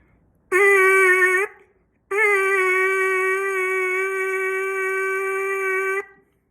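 A buzzing brass-like tone from lips vibrating in a trumpet mouthpiece: one short steady buzz, a pause, then a longer sustained buzz on the same pitch.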